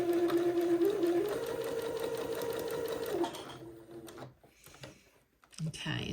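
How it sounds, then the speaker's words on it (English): A sewing machine runs steadily, stitching stretched elastic onto the sleeve of a child's bishop jumpsuit, a loud close hum for about three seconds, then stops, followed by quieter handling noises. "just stretch the elastic along that blue line and simply slowly sew the elastic to the sleeve"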